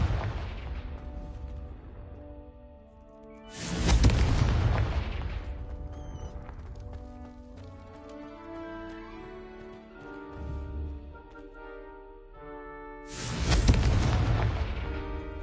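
Confringo explosion spells cast in the video game Hogwarts Legacy: two loud, broad blasts several seconds apart, each rolling off into a decaying rumble, over background game music with no talking.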